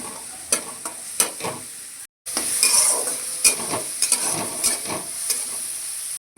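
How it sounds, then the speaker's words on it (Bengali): Ground green chilli paste fries in a pan with a close, steady sizzle and stirring scrapes and clicks, cut by two brief silent gaps, with no talking. "ভালো করে ভেজে নিচ্ছি"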